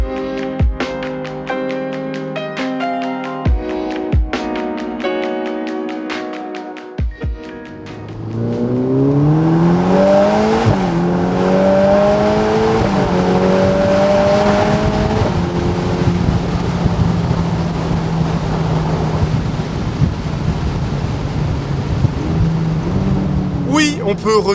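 A Ferrari Portofino M's 3.9-litre twin-turbo engine revs hard after a brief lull, rising through gears with rising pitch, then holds a loud steady roar near the listener.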